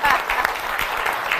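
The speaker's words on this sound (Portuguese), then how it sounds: "Merece um aplauso." Brief applause bursts out during a lighthearted talk on breast self-examination, a dense, steady wash of clapping lasting a moment, with a voice speaking over it.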